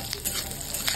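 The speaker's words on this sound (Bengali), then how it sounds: "গোটা গরম মশলাগুলো দিয়ে দিলাম। তো আমি 1 মিনিট ধরে এটা ভেজে নেব" Whole garam masala with coriander and cumin sizzles steadily in a hot pan while a utensil stirs it, scraping in quick repeated strokes close up.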